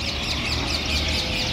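Many birds call together from a tree at dusk, a dense, continuous chorus of chirps and chatter at steady loudness.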